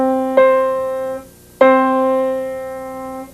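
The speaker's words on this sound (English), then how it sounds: "On the piano, the octave looks and sounds like this." Two piano notes an octave apart sound in turn, each struck clearly and ringing with a slowly fading sustain, close and alone with no talking.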